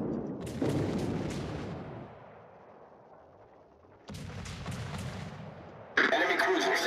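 Naval gunfire in World of Warships: several heavy booming salvos with a sharp burst near the end, loud and close, over busy battle noise.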